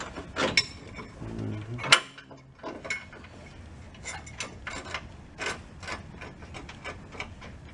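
Close, faint ratcheting clicks and metal creaks come in short bursts between quiet gaps as bolts on a bumper mount for a 2006 Chevrolet Silverado 1500 are tightened.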